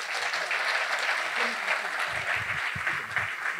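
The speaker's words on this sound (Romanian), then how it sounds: "Așa că aplauze tuturor celor care au venit de foarte departe." Sustained applause fills a hall at a conservative gala, with a voice speaking faintly underneath toward the end.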